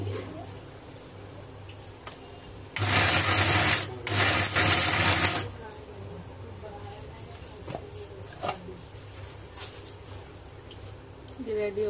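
A kitchen mixer grinder grinding chicken roars in two loud, harsh bursts lasting a few seconds each, with someone talking and quieter kitchen sounds before and after.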